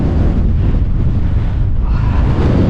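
Steady, heavy wind buffeting the microphone, a constant low roar throughout with no voices.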